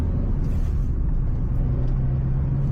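A manual car's engine runs through gear changes and throttle use while driving, heard from inside as a loud, continuous low rumble with a steady drone and no voices.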